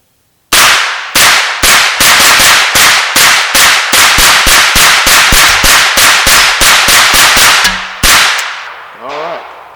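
An American Tactical Mil-Sport AR 9mm carbine fed from a 33-round Glock magazine fires about twenty-five loud, sharp shots in a steady rapid string, with one final shot after a short pause, heard from roughly 35 to 40 feet away.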